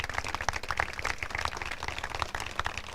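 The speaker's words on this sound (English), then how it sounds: "Round of applause one more time for them." An audience at a press conference for a police precinct groundbreaking claps in a dense, steady round of applause, many hands close by, lasting the full three seconds without any voices over it.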